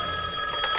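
A cartoon telephone rings in a brief, steady electronic tone that fills the short moment, clear and close with no talk over it.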